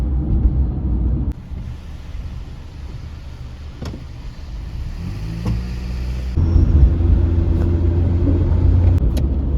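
A car drives through city streets with a steady low engine rumble and road noise, the tone shifting as it changes speed, heard from inside the cabin and fairly loud throughout.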